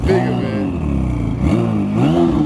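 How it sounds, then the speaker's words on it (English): An Audi RS7's turbocharged engine, fitted with new downpipes, idles loudly close by and then blips upward in two short revs, while someone speaks over it. "You hear them turbos good"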